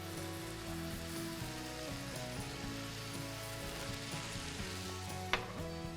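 Ground beef with chipotle and chili powder frying and being stirred in a pan for sloppy joes, a quiet, continuous sizzle under a low hum, with one brief sharp clack near the end.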